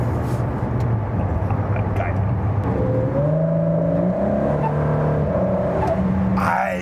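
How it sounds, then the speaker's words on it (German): A sports car worth about 1.2 million accelerating hard, engine roar rising through the gears with a high turbo whistle climbing over it, heard from inside the car under excited talk. "hörst du das, wie der Turbo pfeift"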